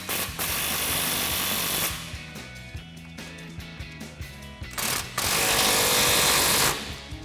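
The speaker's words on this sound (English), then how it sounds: "Now we can go ahead and tighten them down with our 21mm socket and our 21mm wrench." A 21mm socket driven by a power tool tightens bolts on a Jeep Gladiator JT during a front leveling kit install, giving loud rattling bursts at the start and again near the end with quieter workshop noise between.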